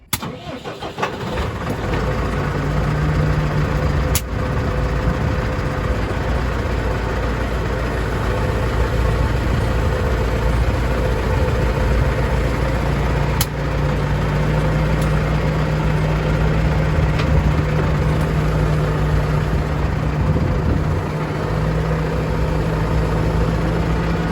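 A tractor engine idles close by while the tractor reverses toward a McConnel 6565T hedge trimmer, a loud, steady low rumble that starts up and runs unbroken throughout.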